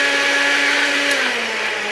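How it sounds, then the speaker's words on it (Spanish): A kitchen blender whirs at full speed, a loud, steady motor whine held close for a couple of seconds with no voices over it. "Licuadora, muy bien."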